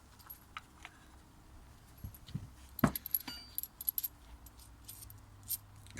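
Bolts and nuts clink and rattle as they are handled during a brake pad change on an Audi A6 C7: sparse, light metallic taps and jingles, one sharper clack in the middle, quiet and close with no talking.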